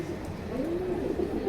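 A pair of Giribaz pigeons gives soft, low coos up close in a brief, continuous murmur with no speech.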